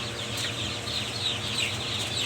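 A flock of young chickens clucking and murmuring continuously at close range on litter bedding, a busy steady chatter with no voices.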